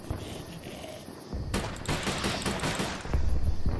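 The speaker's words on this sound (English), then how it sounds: "See, we do have a pistol we can utilize." Pistol firing in the KeepUp Hunter video game, as a burst of dense, loud gunfire blasts filling the middle of the short clip over a steady game background hum.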